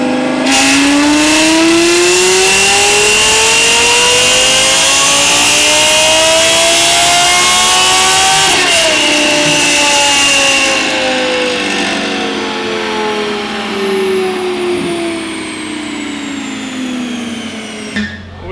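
A straight-piped Lexus LFA V10 is run on a dyno, its loud, screaming exhaust climbing steadily in pitch through one long pull, with a brief shift-like dip midway before holding high and cutting off at the end.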